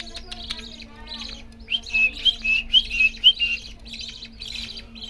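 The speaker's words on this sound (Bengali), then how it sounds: "পাখি বাচ্চার আওয়াজটা হয়তো শুনতেই পারতেছেন, কত সুন্দর মাশাল্লাহ।" Budgerigar chicks call in a pet bird setup, giving a rapid run of squawking, chirping cries that starts sparse and then grows into a steady rhythmic chatter, close by and fairly loud.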